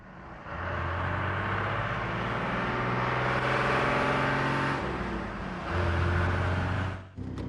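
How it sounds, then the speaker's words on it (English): An HGV goods vehicle pulling uphill in second gear under hard acceleration, its diesel engine droning loud and steady with a rising strained note, easing briefly before climbing again near the end. "Accelerate gently until the clutch is fully up into second, and then accelerate hard up the hill"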